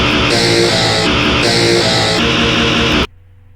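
A heavy metal riff from produced, distorted instruments layered over sub bass: a dense, loud, sustained chugging wall of sound with shifting chords that cuts off abruptly near the end, leaving near silence.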